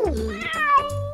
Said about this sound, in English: That's a cat meowing.